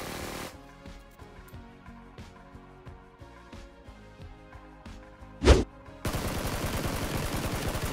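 A SCAR rifle fires in PUBG on a training range: a steady string of sharp, evenly spaced gunshots, one louder crack near the end, then a dense, loud burst of noise.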